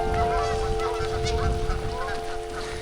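Geese honk repeatedly outdoors in the morning at a backyard ultramarathon, their loud, overlapping calls over a steady background hum.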